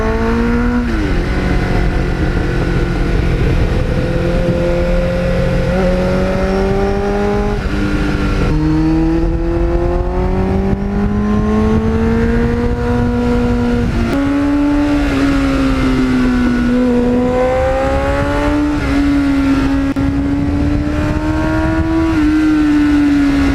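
A 1989 Kawasaki GPX750R motorcycle engine ridden through open country, a loud continuous drone that rises and falls in pitch through several gear changes and throttle swells, heard up close.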